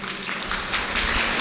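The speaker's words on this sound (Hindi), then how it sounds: "जोरदार तालियों से उनको जन्मदिन सेलिब्रेट करें" Audience clapping at a devotional Bhagavat Katha gathering to celebrate a birthday, a steady broad wash of hands under a hall's ambience lasting throughout.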